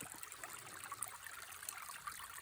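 Cold winter creek with water trickling and babbling softly, a faint continuous patter of small bubbling splashes close by.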